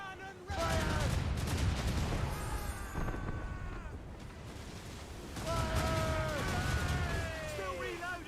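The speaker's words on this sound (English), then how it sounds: "Cannon Fire!" Ship cannon fire in Assassin's Creed Rogue, a dense volley of booming gunfire that rolls on for several seconds, pauses, then swells again, mixed with game music and shouted orders.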